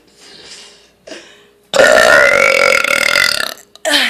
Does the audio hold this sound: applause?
no